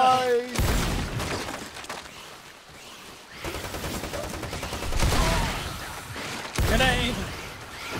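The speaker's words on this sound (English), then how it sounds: "Grenade! Grenade! More grenades!" Grenade blasts and gunfire from the Lost Planet 2 co-op shooter crash out in several loud bursts, each with a sharp onset and a noisy tail, layered over rapid fire and mixed with shouting players.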